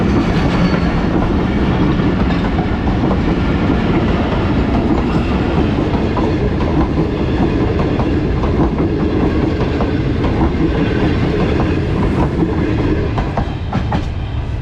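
A train rumbles past continuously through Kot Lakhpat railway station, wheels clattering rhythmically on the rails, loud and close for the whole stretch.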